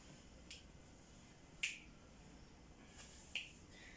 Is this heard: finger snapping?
yes